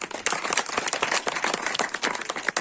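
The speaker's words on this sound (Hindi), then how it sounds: "मैं चाहूंगा कि इस पूरी टीम के लिए हम एक जोरदार ताली लगाएं" A crowd applauds the team at the inauguration of a commercial mushroom farming project, with energetic, overlapping hand claps at moderate volume that stay brisk and uneven from start to finish.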